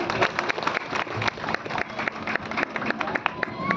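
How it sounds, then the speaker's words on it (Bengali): An audience claps along at a live band performance, brisk and steady throughout, moderately close, with voices and cheering mixed in. "ওর জন্য আর একটু ডাবল হ্যাঁ ডাবল হাততালি প্রয়োজন"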